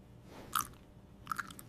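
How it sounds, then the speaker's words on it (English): A person chewing a crunchy snack, two short bursts of crisp crunching close to the microphone separated by a quiet pause, with no talking. "Because I can hear you chewing right now."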